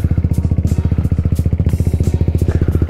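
Italjet Dragster 200 scooter engine running close by, a loud, rapid, evenly pulsing thrum with mechanical clatter, heard alone.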